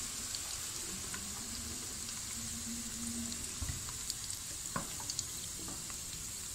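Onions frying in oil until light brown for chicken white karahi, giving a steady close sizzle with faint scattered pops and crackles throughout.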